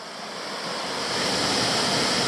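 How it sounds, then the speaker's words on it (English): Canungra Falls, a small waterfall on a Queensland hiking creek circuit, pours in a steady, close, full-bodied rush of water that swells slightly louder and runs on without a break. "I've hit the next waterfall. This is Canungra Falls."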